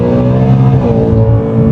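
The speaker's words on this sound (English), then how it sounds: "I can hear the whine to the supercharger" A car fitted with a Whipple supercharger and a carbon fiber intake accelerates hard, with a loud, steady engine roar and a rising supercharger whine heard from inside the cabin.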